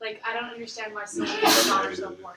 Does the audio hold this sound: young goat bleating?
no